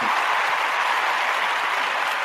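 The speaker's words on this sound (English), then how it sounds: "I'm going to give you a clap" Applause for a guest arriving on a sports talk show, a steady wash of clapping that is continuous and even throughout.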